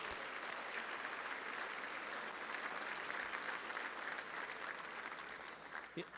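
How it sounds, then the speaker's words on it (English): An awards-event audience applauds the staff, a continuous wash of many hands clapping that holds steady throughout and tapers slightly at the close. "Please give the Invest in Others staff a round of applause for putting this together."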